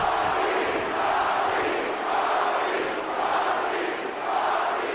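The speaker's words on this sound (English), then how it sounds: "listen to this crowd." Video game wrestling crowd in WWE 2K, a dense, steady roar of cheering and chanting that swells in rhythmic waves, loud and continuous with no clear talk over it.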